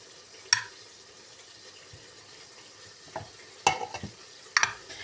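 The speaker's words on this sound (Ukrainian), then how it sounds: "беремо ложку і ложкою ось наші овочі переміщуємо все сюди" Quiet background with a few sharp scraping clinks of a spoon against a pan, spaced irregularly, alongside soft stirring noises of frying carrots and onions.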